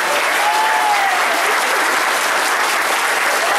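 Wedding guests applauding at a civil marriage ceremony officiated by a mayor in Kütahya, a steady, dense burst of clapping from a crowd filling the whole stretch at constant loudness.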